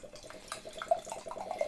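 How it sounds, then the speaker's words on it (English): Canned IPA beer poured from the can into a glass, a close, moderately quiet liquid sound with quick trickling and dripping pulses throughout, and no speech. "Let's get this beer out of the can."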